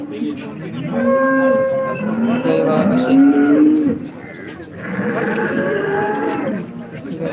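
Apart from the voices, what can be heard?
cows mooing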